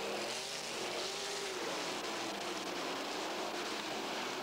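Sprint cars in a fast heat race on a dirt track roar continuously as a dense, distant, harsh engine wash from a crowded field, steady and fairly quiet throughout.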